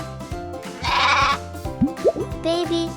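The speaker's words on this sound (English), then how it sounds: "a sheep." A sheep bleats in several short, wavering calls, close and clear, with a brief burst of noise partway through.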